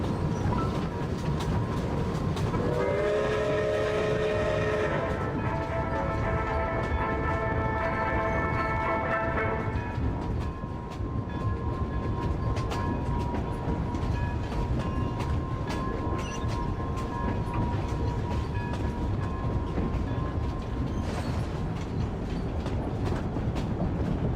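A train moves steadily in the video game Genshin Impact, giving a continuous loud rumble with faint rhythmic clatter, while a sustained tonal chord swells in and fades early on.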